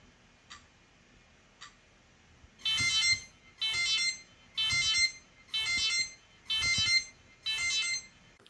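Timer alarm on the Doly open-source Raspberry Pi-powered robot going off, six evenly spaced electronic beep bursts at about one-second intervals, loud and close, preceded by two faint ticks.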